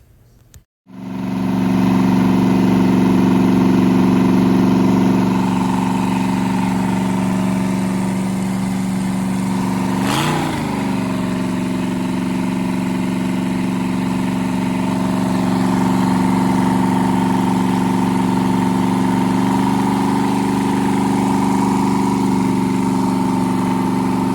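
A small 289 V8 engine fires on its first start and settles into a loud, steady, rumbling idle close by, with one brief blip of revs partway through; no talking.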